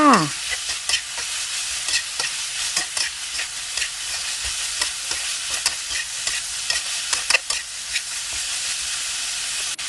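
Pork stomach and pickled mustard greens stir-fry in a pan with a continuous sizzle, broken by repeated scraping and clanking strokes of a spatula against the metal, close up and with no one talking.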